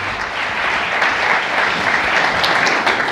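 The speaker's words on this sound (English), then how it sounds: "So how about a big round of applause for YY?" Loud, continuous audience applause fills a large hall after a keynote speech at Lenovo Transform in New York, dense steady clapping with no break.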